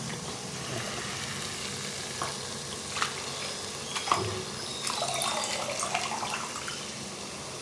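Tomato, salt and chilli powder being stirred in a pan, a soft continuous sizzle with occasional scrapes and clinks of the spoon, recorded close with no talking.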